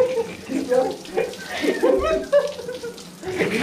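Shower water running in a bathroom, splashing and hissing steadily beneath excited voices talking and exclaiming close by.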